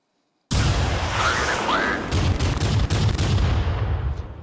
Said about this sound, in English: now it's starting to feel like an airstrike